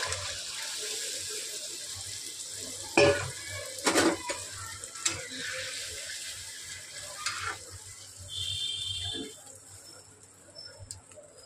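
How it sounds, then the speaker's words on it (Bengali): Water poured into a pan of simmering hilsa fish curry, a soft sizzle and splash with a few sharper clatters of utensils, moderately close, then a quieter bubbling simmer. "এবার এই জলটা দিয়ে দেবো।"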